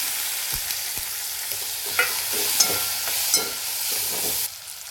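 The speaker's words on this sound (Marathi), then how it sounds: "हे बघा तेलामध्ये चांगलं फ्राय झालेलं आहे" Bean pods fry in hot oil in a pan, giving a steady close sizzle broken by light scraping clicks as they are stirred, with no speech.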